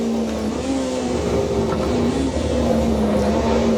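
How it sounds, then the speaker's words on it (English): Race car engine in the Assetto Corsa EVO racing game, played with a clutch and manual gear shifts, holds a loud continuous drone whose pitch rises and dips slightly as the revs change, with no talking. "I have the clutch. I press it every time I shift the gear."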